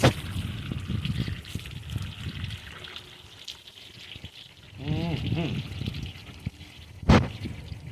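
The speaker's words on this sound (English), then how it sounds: "I'm gonna give him a quick rinse off." Water running over a scaled and gutted freshwater fish such as bluegill or crappie during a quick rinse, a soft trickle and splash close by with a louder burst of gushing partway through and a sharp knock near the end.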